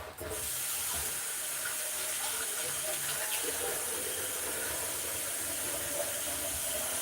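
Tap water runs steadily into a sink during rinsing, a continuous broad splashing hiss that starts abruptly and carries on at even strength.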